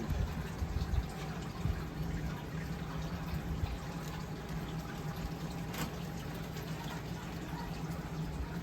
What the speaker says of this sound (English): we're gonna do a nice big water change on this tank for our new fish